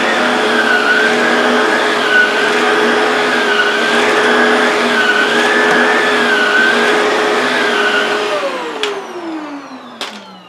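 A Shark Rotator Powered Lift-Away vacuum cleans carpet with a loud, steady motor whine and a wavering pitch as it sweeps back and forth, then winds down near the end with a couple of sharp clicks.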